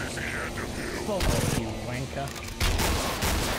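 Pipe bombs go off in a video game, a rapid run of sharp gunfire-like cracks and booms rattling through several seconds, loud and close, with a voice talking over the blasts.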